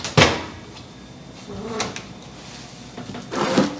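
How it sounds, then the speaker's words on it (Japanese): A microwave oven door set under a kitchen counter is opened, giving a sharp click and thump near the start followed by quieter handling knocks and a second clunk near the end. "この電子レンジの扉を開けて"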